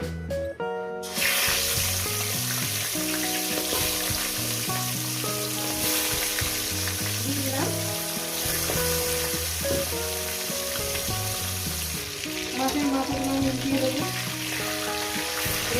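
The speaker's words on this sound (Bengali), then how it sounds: "তো বন্ধুরা তেলটা গরম হয়ে গেছে দিয়ে দেবো লবণ দিয়ে দিলাম এরপর আমি মাছের মাথাগুলো এক এক করে দিয়ে দেবো" Fish heads frying in hot salted oil for a fish-head chorchori, a dense steady sizzle running the whole time with tonal background music layered over it and no talking.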